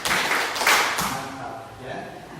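A group of adults claps the 'tepuk 5' pattern, a quick run of short clapping bursts at a school gathering, then it trails off as a voice speaks.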